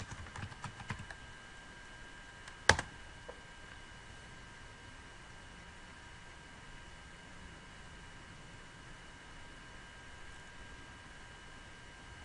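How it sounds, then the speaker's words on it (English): A few faint keystrokes on a computer keyboard during a Linux Elastix server install, followed by one sharper key press. After that comes a long stretch of quiet room hiss with no voices. "To install or upgade in text mode, plus type Linux text."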